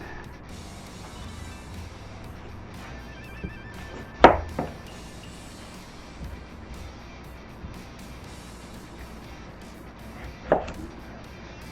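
A knife chopping the ends off vegetables for pub chips: two isolated sharp chops on a cutting board several seconds apart, close and fairly loud, over quiet room ambience.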